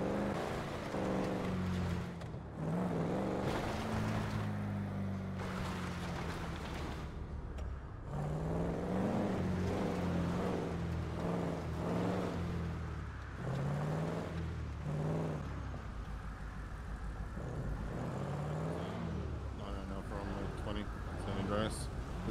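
A car engine rising and falling in pitch as it drives on an icy, snow-covered road in GTA 5, steady revving throughout, heard beneath ongoing talk.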